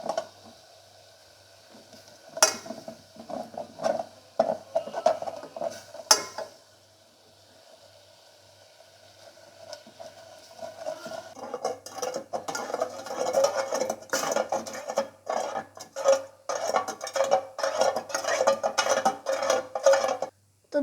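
Water is stirred into tea in a pot in a home kitchen, with a spoon clinking against metal in quiet scattered taps at first, then steady rhythmic scraping and clinking in the second half.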